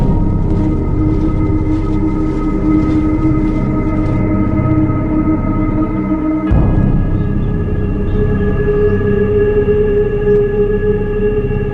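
A train, the last one leaving Auschwitz for Germany in winter 1945, rolls on rails with a loud, steady rumble and droning hum that shifts in tone partway through and continues without pause.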